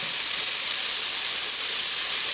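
Pork chops browning in a hot pan, a steady loud sizzling hiss that holds constant without pause.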